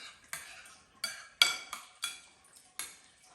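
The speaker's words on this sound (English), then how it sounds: "Just gonna take a spoon, mix all that in" A metal spoon mixing pizza ingredients in a bowl, giving a series of sharp clinks and scrapes roughly every half second, close and distinct with no speech.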